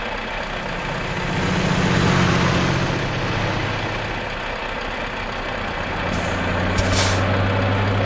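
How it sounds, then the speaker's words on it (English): A truck's handbrake engaging in Euro Truck Simulator 2, a sharp hissing air release near the end over a steady low engine idle rumble. "put the handbrake on."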